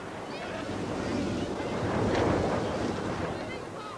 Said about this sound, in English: the wind caught Tessie's bonnet